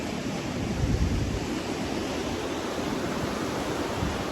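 Ocean surf at Oceanside Pier makes a steady broadband rush of breaking waves, with a continuous roar and slight wind noise and no voices.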